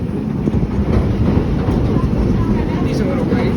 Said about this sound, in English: Oh wow, already crossing over the trestle.